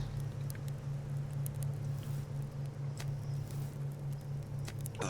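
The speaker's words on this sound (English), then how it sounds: "It sounds like it's raining" Steady rain in the survival game Subsistence, a soft continuous patter with scattered brief drips, fairly faint and even throughout with no voices.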